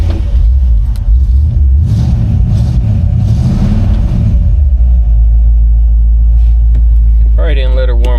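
A 1962 Chevrolet Impala SS engine, not fully warmed up, revs with a deep loud rumble that swells and then settles into a low steady idle, followed by a brief higher tonal sound near the end.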